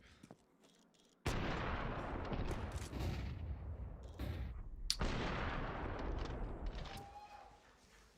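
Gunfire in a Counter-Strike match between Spirit and MOUZ, with two sharp loud bursts and rumbling reverberant tails that fill most of the stretch before fading away.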